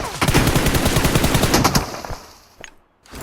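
Rapid automatic gunfire in a PUBG tournament match, a loud sustained burst of shots for about two seconds, then a pause and a few more scattered shots.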